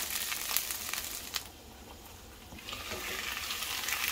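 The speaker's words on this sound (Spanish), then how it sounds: "Vamos a esperar a que se nos frían estos chilitos" Green chilies frying in a pan for green mole, a soft steady sizzle with faint stirring scrapes, quiet and continuous with a brief lull midway.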